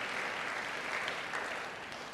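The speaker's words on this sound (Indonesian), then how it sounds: "Yang percaya beri tepuk tangan yang baik bagi dia." Congregation applause during an Indonesian-language church sermon: a dense, steady wash of clapping that holds at an even level for about two seconds, with no voices over it.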